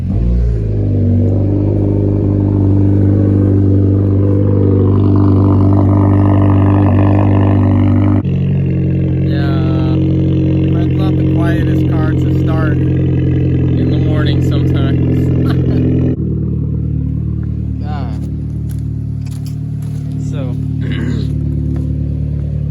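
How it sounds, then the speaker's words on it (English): A tuned Honda CR-Z set in sport mode starts from cold, its engine catching and settling into a loud, steady idle with strong low rumble, the pitch stepping down partway through as the revs drop, while a person talks throughout. "I'm going to give you a cold start"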